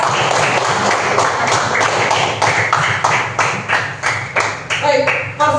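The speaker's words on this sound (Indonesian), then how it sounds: "kasih tepuk tangan untuk kelompok 4" A classroom of students claps for group 4 after a presentation, uneven close hand claps with taps and thuds, a voice talking over part of it.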